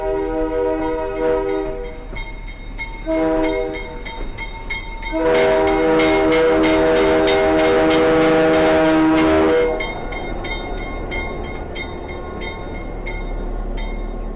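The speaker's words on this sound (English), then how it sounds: "Probably get a couple loud blasts of the horn." Loud train horn blasts from a GP9 locomotive on the Northern Central Railroad, two shorter ones then a long sustained blare, with the rumble of a passing train underneath.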